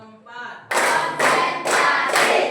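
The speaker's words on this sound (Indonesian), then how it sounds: "Tepuk 1, tepuk 2, tepuk 3, tepuk 4" Hand claps counted out in a steady rhythm, four sharp, loud claps evenly spaced about half a second apart, following a brief voice and tone at the start.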